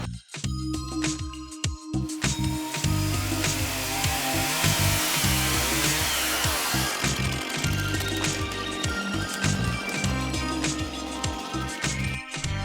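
Saws cutting through trees to clear a corridor for a mountain bike trail, a loud, continuous buzzing drone with grinding, wavering pitch that runs nearly unbroken, close by, with brief dips at the start and near the end.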